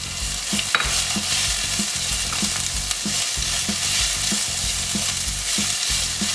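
Onions frying in a pan, half cooked: a constant close sizzle broken by regular rhythmic stirring strokes, with no talk.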